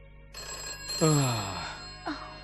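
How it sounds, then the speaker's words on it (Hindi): A telephone rings with a bright electronic warble, two bursts in quick succession, close and clear over a steady background hum. "कोई फोन उठाओ भाई, उठाओ भी।"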